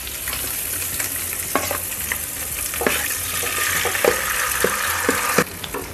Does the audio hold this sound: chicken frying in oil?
yes